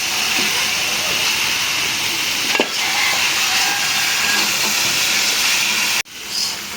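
Spiced fish, pre-fried with turmeric, chili and salt, dropped into hot oil and masala in a village kitchen, giving a steady loud hiss of sizzling throughout with a brief sharper crackle midway.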